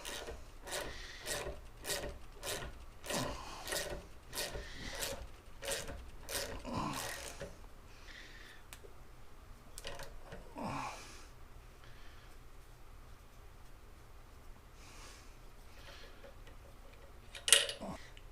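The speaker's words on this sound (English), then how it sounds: "so I got a wrench on here and I'm just going to see" A wrench turns an extractor to back out a broken tap, making a run of regular scraping, rasping strokes for several seconds. Quieter scrapes and a single sharp clink follow near the end.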